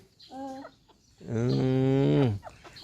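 Bantam chickens cluck outdoors while pecking at termites: a short clucking call, then a longer, louder drawn-out cluck close by, with quiet gaps between.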